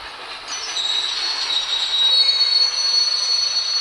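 A video game train rumbling steadily along with a long high metallic wheel squeal sustained throughout, loud and close, no voices.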